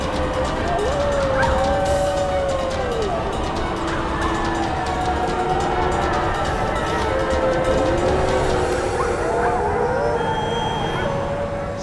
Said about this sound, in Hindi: सियार के रोने की आवाज इसी दिशा से आ रही है।